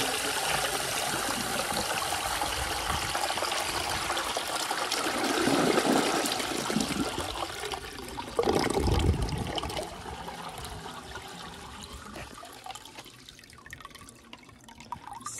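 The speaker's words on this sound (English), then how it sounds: "this toilet's got a really nice flush. It's very quiet too." A 1920 Standard ejecto toilet flushes through a flushometer on weak pressure, a steady broadband rush of water with a louder surge midway, then tapering to a quiet trickle.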